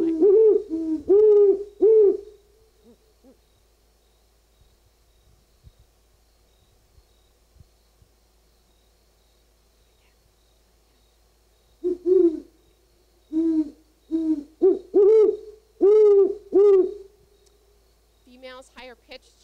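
A pair of great horned owls hoot in deep, rhythmic series, the nearer female higher-pitched and the male lower, answering each other across a long quiet gap, recorded outdoors in Vermont.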